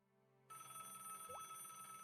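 A telephone rings in the Broken Sword: The Shadow of the Templars adventure game. A sustained electronic bell tone starts abruptly after a short quiet lead-in, with a brief rising blip partway through.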